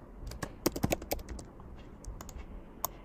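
Computer keyboard typing, a quick burst of sharp clicks followed by a few scattered keystrokes, close and fairly quiet with no talk.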